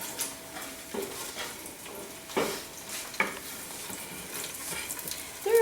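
Onions frying in a pan for beef biryani, a soft steady sizzle punctuated by a few scraping stirs and light clinks of a utensil against the pan, close and moderately loud.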